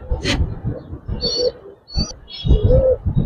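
Giribaz and coloured pigeons coo at a pigeon farm, with a few close, soft throaty calls and brief chirps over low handling noise and movement.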